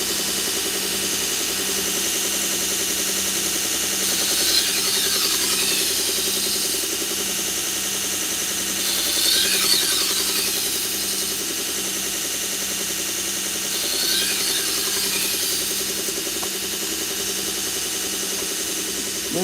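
A knife sharpening machine runs steadily at 2000 RPM, giving a continuous motor drone with a high grinding hiss that swells briefly about every five seconds as a blade is drawn across it.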